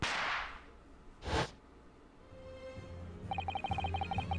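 In The Great Ace Attorney 2, a firework goes off to fake a gunshot. A breathy swoosh opens, then a short sharp bang cracks out, followed by quieter game sounds and a light tinkling pattern.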